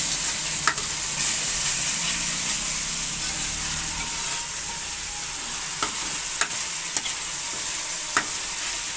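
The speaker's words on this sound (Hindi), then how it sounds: "जब अदरक और लहसुन भुन जाए अच्छी तरह तो उसके अंदर टमाटर का पेस्ट ऐड कर देंगे। इसको अच्छी तरह भूनेंगे सारी चीज़ों को।" Ginger, garlic and tomato paste fry in a pan for dhaba-style daal mash. A steady, hissing sizzle carries throughout, with a few sharp clicks of a stirring spoon against the pan, and no one speaks.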